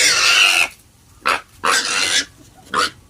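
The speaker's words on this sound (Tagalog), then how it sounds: "Atat na kumain ang ating baboy." A hungry pig squeals loudly and harshly at feeding time, giving one long cry followed by three shorter bursts with silent gaps between them.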